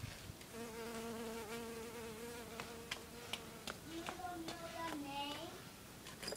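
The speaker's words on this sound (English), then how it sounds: "It's a leaf cutter bee." A Japanese leaf cutter bee buzzes at close range with a wavering, rising and falling drone, while soft clicks and faint background sounds come and go.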